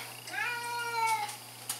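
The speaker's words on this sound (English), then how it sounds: "This is my cat, Jughead." A house cat lets out a single rising-and-falling meow, quiet and close, over a low steady electrical hum, with no one speaking.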